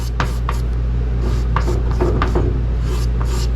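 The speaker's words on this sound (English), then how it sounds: "Or you're scraping, you're not digging." A scraper drawn steadily across a painted surface to level a dried paint run, giving short repeated rasping strokes at close range over a constant low hum.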